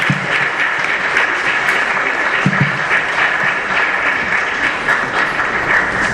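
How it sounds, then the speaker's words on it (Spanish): An audience at a lexicology and lexicography congress closing ceremony applauds steadily and loudly throughout, a dense, even wash of clapping with no pauses. "quisiera un fuerte aplauso"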